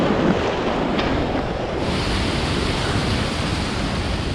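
Ocean surf surges and crashes on rocks in the wash during a surf-fishing outing, a loud, steady roar of churning water and wind noise with no voices.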